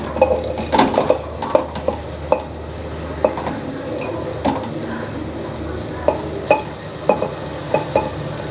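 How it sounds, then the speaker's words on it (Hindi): Marinated chicken stirred into fried masala in a pan, with an irregular clatter of a spoon against the pot over a low sizzle, close and moderately loud. "अब इसमें हम मिक्स किया हुआ चिकन डाल देंगे।"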